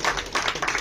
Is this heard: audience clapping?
yes